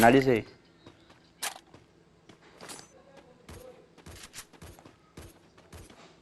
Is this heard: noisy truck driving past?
no